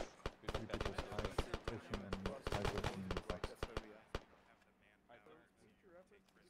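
Rapid bursts of gunfire in the video game Arma 3, sharp cracks in quick irregular volleys, loud and close for about four seconds before tapering off, with players' voices talking underneath.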